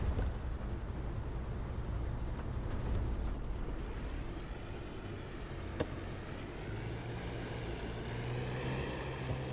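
Steady droning engine of a Fw 190 D-9 fighter plane in a flight combat game dogfight against Spitfires, a continuous rumbling roar with a slight wavering pitch and one sharp click near the middle.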